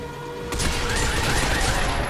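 Rapid gunfire in the Binary Domain video game, aimed at the legs of advancing enemy robots, bursts in loudly after a brief lull and rattles on steadily amid dense game noise.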